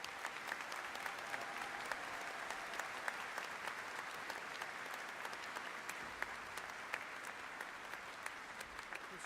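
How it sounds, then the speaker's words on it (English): Steady applause from a commencement audience at a spring university graduation ceremony, even and sustained throughout at a moderate distance, with no voices standing out. "Let's give them a big round of applause as they come forward."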